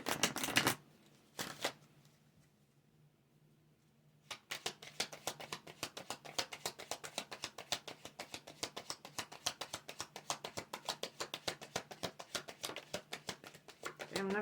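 Tarot cards are shuffled close by, starting with a few isolated soft taps and then running into a quick, steady flutter of papery clicks that lasts about ten seconds at low volume.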